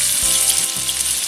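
Marinated chicken frying in hot oil in a pan, a loud, steady sizzle and crackle throughout, with a few soft low knocks beneath it.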